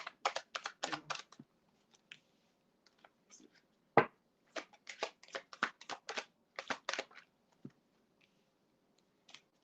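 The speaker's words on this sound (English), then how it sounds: "the cards don't even want to shuffle" Tarot cards being shuffled by hand, heard as quick bursts of crisp riffling clicks in irregular clusters with short pauses between them, close and fairly quiet, with no talking.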